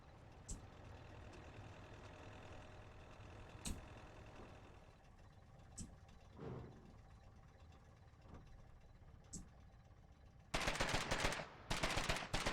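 Gunfire in the war game Foxhole: scattered single shots and faint distant pops over a low engine-like rumble, then dense rapid machine-gun bursts at the end, loud and close.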